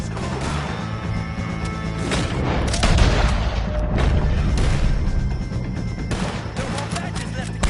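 Gunfire in a Red Dead Redemption 2 shootout against O'Driscoll gang members, with repeated booming shots and crashing impacts over several seconds in a dense, noisy battle mix.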